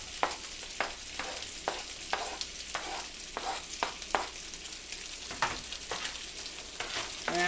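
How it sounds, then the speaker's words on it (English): Onion browning alongside pork in a frying pan, a continuous sizzle broken by repeated, fairly regular scrapes and stirs of a utensil, close and quiet, no voices. "basically you brown the onion as well. Get it nice and soft."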